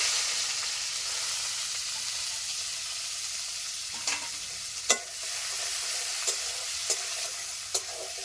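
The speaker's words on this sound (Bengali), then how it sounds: "তেল গরম হয়ে গেছে, পুরনে দিয়ে দিচ্ছি শুকনো লঙ্কা, তেজপাতা, পেঁয়াজ কুচি।" Dried red chillies, bay leaves and chopped onion sizzling in hot mustard oil, a steady bright hiss with occasional spoon taps and scrapes against the pan.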